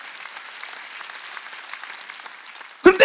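Congregational applause at a Sunday church worship service, a steady dense patter of many hands held at even loudness for nearly three seconds, then cut off by a sudden louder burst at the end.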